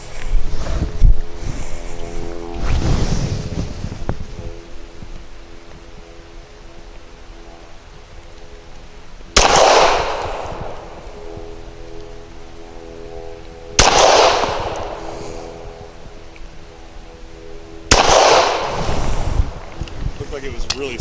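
A CZ P10C pistol fires PPU 158 grain subsonic ammunition: sharp, booming reports spaced several seconds apart, each with a short echoing tail over steady background wind noise.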